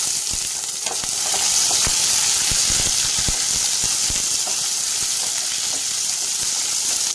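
Fifty grams of chopped shallots sizzle in hot oil, making a loud, steady close-up frying hiss dotted with small crackles, with no talk.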